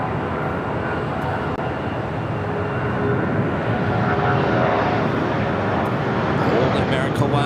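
An old America West Airbus A319 at LAX makes a steady, moderately loud jet roar that holds throughout, with a voice talking over it.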